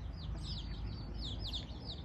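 Many small chicks peep rapidly in high, rising chirps, a busy cluster of calls close by over low background rumble.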